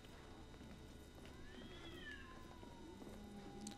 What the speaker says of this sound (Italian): Un gatto!